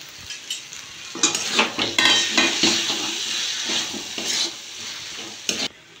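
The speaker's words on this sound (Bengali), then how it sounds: "ভালো করে নেড়ে দেবো।" Bombay duck fish curry with fresh coriander leaves being stirred vigorously in a pan, with loud, close scraping and clattering of a spatula against metal over a steady sizzle, easing off toward the end.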